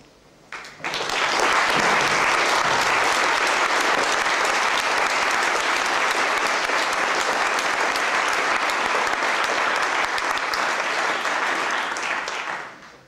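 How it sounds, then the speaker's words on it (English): A conference audience at a Haskell Symposium gives a loud, sustained round of applause for the programme committee members. The dense, even clapping swells up fast, holds steady for about eleven seconds, then fades out. "I would like to ask the PC members that are present, which should be most of them, to stand up so that we can give them a round of applause"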